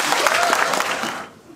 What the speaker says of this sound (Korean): 큰 박수 한번 쳐주시기 바랍니다